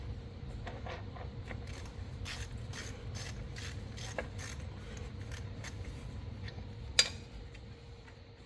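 A hand ratchet loosens bolts on a Ford Thunderbird during fuel system and brake work, giving quick runs of close metallic clicks over a low background hum, with one sharp clank near the end.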